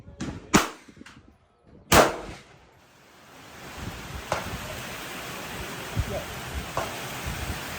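At a gun range, shots from an IWI Tavor rifle crack out twice near the start as loud, sharp reports, followed by a few fainter distant bangs over a steady noisy room hum.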